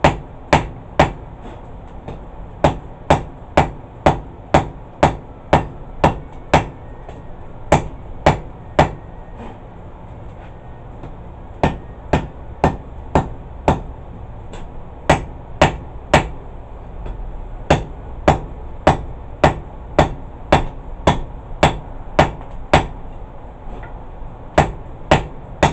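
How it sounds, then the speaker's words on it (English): Hot steel is hammered on an anvil while a herb chopper is forged, with sharp ringing blows in steady bursts of several strikes separated by brief pauses, loud and close throughout. "Draw it out over the edge of the anvil here."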